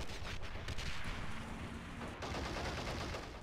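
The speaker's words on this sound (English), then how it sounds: "So I killed your tank with the rifle grenade" Rifle grenade launched in Call of Duty: World at War, a dense, sustained burst of gunfire-like blasts over about three seconds with a brief tonal ring mid-way, loud and close with no talk.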